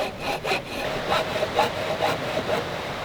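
A hand saw cutting through wood at a bushcraft camp, steady back-and-forth rasping strokes about twice a second, close and loud, with no talking.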